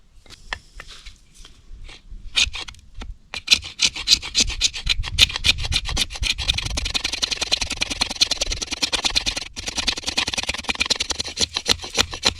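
A knife scraping shavings off a piece of fatwood, with a few scattered strokes at first, then a loud, fast, continuous run of rasping scrapes up close.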